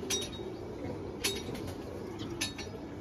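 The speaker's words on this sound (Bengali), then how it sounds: "এটা ইম্পোর্ট করা কবুতর এক পেয়ার নিয়ে আসছিলাম" Imported racing pigeons in a loft, soft low cooing with a few faint clinks and brief high chirps over a quiet background, no talk.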